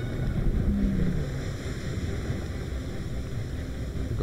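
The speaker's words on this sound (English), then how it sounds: "We've got very big engines in the back" Large spaceship engines in Space Engineers produce a steady, deep roaring rumble with a windy, rushing texture, holding constant at moderate loudness throughout.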